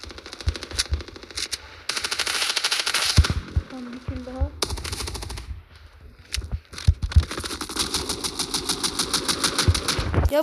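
Rapid automatic gunfire from the mobile shooter game Standoff 2 sounds in loud bursts, with repeated firing and clattering effects. Game music and shots crowd together over much of the clip.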